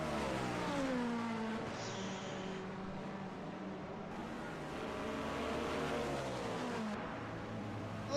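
Race car engines in the Le Mans Ultimate video game, a Lamborghini and a Cadillac at Spa, droning steadily with rising and falling revs and gear changes, loud and continuous throughout.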